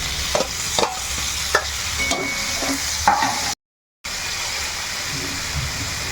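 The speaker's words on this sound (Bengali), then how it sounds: "এখন এই যে টমেটোটা একটু নাড়াবো" Chopped tomatoes frying with ginger and garlic in a pan for chicken keema tadka, a steady close sizzle broken by several rhythmic spatula knocks and scrapes, with a brief gap of silence partway.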